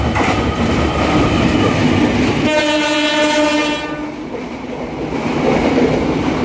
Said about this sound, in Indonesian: Kereta rangkaian panjang.